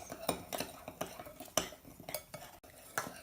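Bath bomb dry ingredients being mixed in a bowl, a rhythmic series of scraping, clinking strokes from a utensil against the bowl, close and fairly quiet, with no talking.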